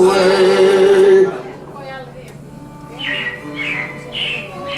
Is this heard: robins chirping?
yes